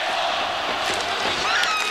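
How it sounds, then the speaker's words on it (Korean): Baseball crowd at Sajik Stadium during a Lotte home game against Hanwha, a dense, continuous roar of cheering fans filling the stands, steady and loud with no pauses. "한화의 경기가 진행되는 내내 관중들의 열광적인 응원은 계속된다"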